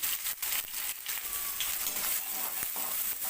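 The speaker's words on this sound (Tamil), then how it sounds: "நல்லா வெங்காயம் வந்து வதங்கட்டுங்க" Chopped onions sautéing in hot oil with popped mustard seeds, a steady close sizzle and crackle with faint stirring scrapes throughout.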